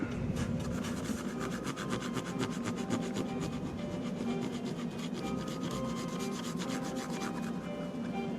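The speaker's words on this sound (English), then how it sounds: "even after the eraser goes over it, it's still got some grime. That's why I'm cleaning it." An eraser scrubs grime from the contacts of a 1986 Nintendo Dragon Warrior cartridge with steady, close rubbing strokes that continue throughout without any talking.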